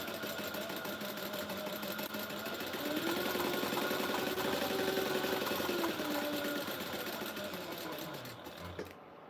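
Sewing machine basting vinyl bag lining panels together, a continuous fast mechanical whirring hum that rises slightly midway and stops near the end, close and steady with no talking.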